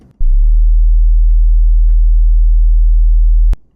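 A steady low test tone around 40 to 50 hertz hums continuously for about three seconds, loud and constant, with no speech, ending with a brief click.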